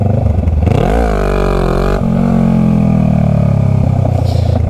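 Honda Rebel 500 motorcycle engine revving hard during a wheelie, loud and close, rising in pitch, dipping briefly, then holding a steady high drone throughout.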